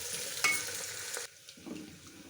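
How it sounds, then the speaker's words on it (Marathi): Chopped onion, green chilli and curry leaves fry in a pan for spiced peas rice, giving a loud, close crackling sizzle that suddenly drops to a softer hiss partway through. "कढीपत्ता मिरची आणि कांदा थोडंसं भाजून द्यायचं आपल्याला"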